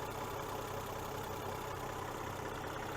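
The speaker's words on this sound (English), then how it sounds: "But there's that 3-liter turbocharged inline 6" Land Rover Defender 130 with a 3-liter turbocharged inline-six idles steadily, a low, even engine hum with faint mechanical clatter and no other sounds.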